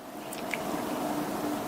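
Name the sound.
adding a teaspoon of oil to frying potatoes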